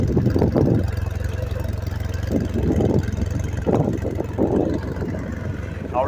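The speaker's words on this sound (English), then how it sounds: "I'm going to fire it up here, and you can hear it." A BMW F800GT motorcycle with its stock, unmodified exhaust idles steadily, a quiet low drone running throughout, with a few brief louder bursts of noise rising over it.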